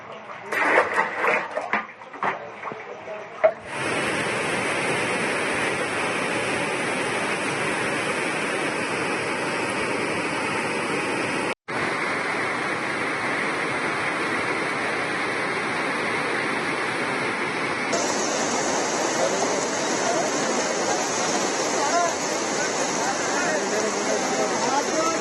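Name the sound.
heavy rain and floodwater in Kalaburagi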